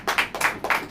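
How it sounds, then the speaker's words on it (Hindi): Three sharp rhythmic claps from an audience during a church sermon, evenly spaced, fairly close and distinct. "ताली बजाओ।"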